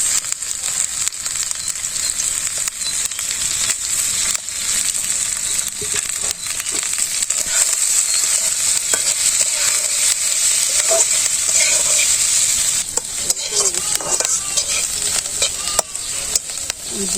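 Cumin paste and chopped green chillies fry in a pan for a fish and eggplant curry, a steady, close sizzle running throughout with scraping stirs breaking in now and then, growing busier toward the end.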